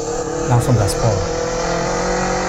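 A car accelerates hard at full throttle, its engine roaring loudly and steadily, with a few brief bursts on top and a voice talking over it.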